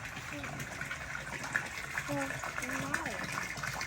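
Water gushes steadily into a hotel pool being refilled after cleaning, a continuous moderate splashing flow heard beneath a person talking nearby.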